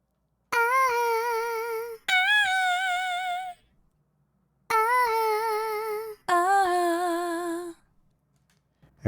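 Dry synth chords with no effects, played in four sustained hits with clean harmonic tones and short gaps between them, alone and upfront, for a Scaler 2 auto progression.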